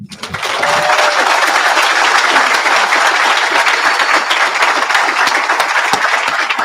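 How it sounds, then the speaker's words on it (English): Sustained, dense applause from a large crowd at a graduation ceremony, loud and steady throughout with crisp clapping texture. "Can we give Jason another round of applause?"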